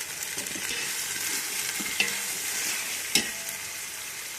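Fresh mint leaves sautéing in a pan with fried ginger-garlic paste for chicken biryani, a steady close sizzle with a couple of sharp stirring clinks, no talk.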